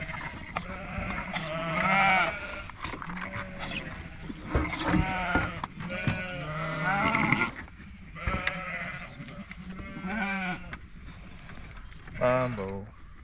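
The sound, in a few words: lambs bleating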